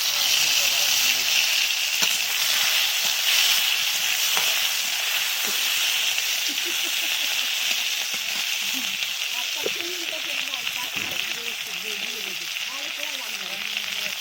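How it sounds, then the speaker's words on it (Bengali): Tomato sizzles in hot oil already seasoned with five-spice seeds and dried red chillies, a steady loud frying hiss that runs throughout, with a voice talking quietly beneath it. "এইবারে আমি টমেটোটাকে দিয়ে দিলাম"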